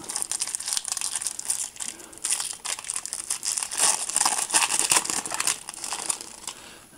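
Crinkling and tearing of a foil wrapper as a Panini Adrenalyn XL Champions League 2012-2013 football card pack is opened, close and continuous with sharp crackles throughout.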